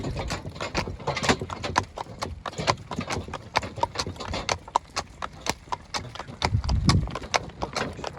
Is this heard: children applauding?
no